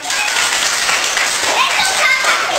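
Schoolchildren in a classroom clap and cheer loudly for a finalist during a multiplication quiz contest, in a continuous noisy burst that fills the room.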